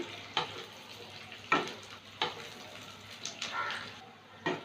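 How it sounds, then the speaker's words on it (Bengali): Large-cut onion and capsicum fry on high flame for chilli egg, a quiet crackling sizzle broken by several sharp stirring knocks at irregular intervals. "এবার বড় করে কেটে রাখা পেঁয়াজটা দিলাম, ক্যাপসিকামটা দিয়ে দিলাম। 2 মিনিট ভেজে নেব হাই ফ্লেমে"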